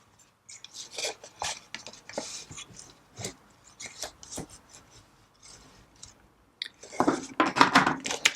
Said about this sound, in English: And just burnish the fold a little bit.